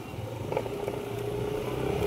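A motorcycle engine runs at a steady idle or low cruise, a continuous low rumble with some faint clattering on top, fairly close and without speech.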